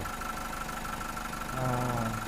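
A car engine idles while its battery is being charged and tested, a steady low rumble and hum that stays constant throughout, close by, with a slight rise in tone near the end.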